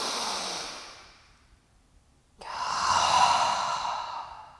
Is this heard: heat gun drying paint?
no